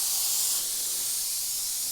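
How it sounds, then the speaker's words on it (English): Steady, close hiss of an Iwata HP-TH airbrush spraying with its air cap twisted for a horizontal pattern, a continuous airy rush that stays even and alone for the whole stretch. "and now you're going to have a horizontal spray."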